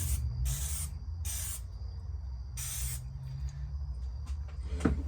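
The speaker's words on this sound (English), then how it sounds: "So now what I'll do is I'll spray these mouth plates." Spray adhesive hisses from a can onto puppet mouth plates in four short, close bursts, followed by quiet handling noises.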